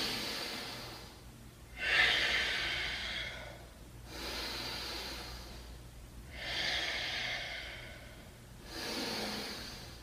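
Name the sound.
breathing during yoga warrior pose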